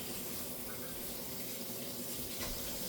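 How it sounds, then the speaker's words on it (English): Cold tap water runs steadily over drained cooked potatoes in a sink, a soft, continuous splash and rush with no talk. "So I have them right now just running in under the cold water."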